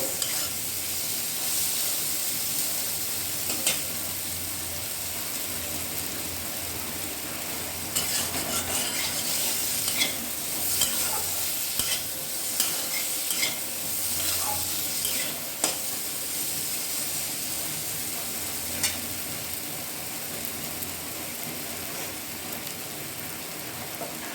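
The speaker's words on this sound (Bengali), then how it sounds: "কষাতে কষাতেই আলু প্রায় আর্ধেক সেদ্ধ হয়ে আসছে" Potatoes and spices sizzle and fry in a pan for a low-oil chickpea masala, with a steady hiss and scattered scraping stirs throughout.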